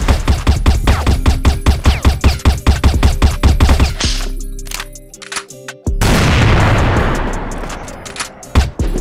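A grenade goes off in the shooter game CrossFire: rapid bursts of gunfire rattle for several seconds, a brief lull follows, then a loud, sustained blast with rumbling debris noise fills the scene.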